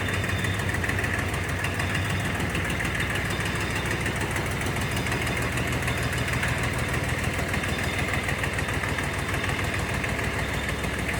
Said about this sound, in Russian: Трактор работает сейчас на пониженной передаче.